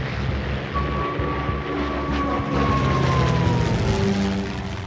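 Luftwaffe warplanes of the Battle of Britain era in flight, a steady broadband engine roar with a faint rising drone tone, continuous and fairly loud with no voices.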